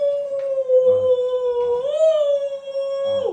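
A voice imitating a wolf howl, one long sustained tonal howl that rises briefly and then holds steady, loud and close, with a little background chatter from others.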